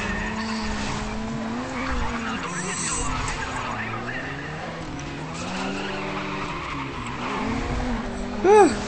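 Race car engine whine with sliding, squealing tires as a car drifts in Race Driver: GRID, steady and close, with the engine pitch rising and falling throughout and a short sharp squeal near the end.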